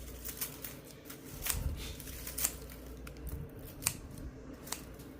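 Sharp snips of a cutting tool trimming the tops off harvested garlic come in a handful of separate, quiet clicks spread irregularly across the moment.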